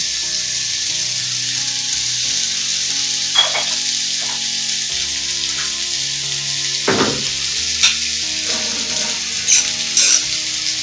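Potatoes sprinkled with salt frying in a pan of hot oil: a loud, continuous close-up sizzle broken by a few sharp scrapes and clacks of stirring, with no talking.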